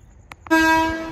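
Two short clicks, then a loud, sustained train horn blares close by, steady and bright, as a train arrives on a Konkan route journey toward Murdeshwar.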